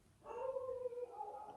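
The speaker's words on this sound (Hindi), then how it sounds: "पीछे से कुत्ते भौंक रहे हैं।" Dogs howl and yelp in the background, a drawn-out wavering howl joined by a second voice, moderately distant and steady for over a second with no talk over it.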